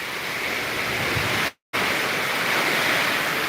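Typhoon wind gusting outdoors, a loud broad rushing roar like surf that holds steady, then cuts out abruptly for a moment and returns just as strong.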